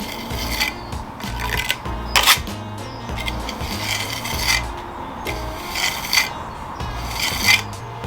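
A brick trowel strikes off slightly overfilled mortar in old brickwork joints during repointing, giving repeated close gritty scraping strokes in an uneven rhythm with no talk.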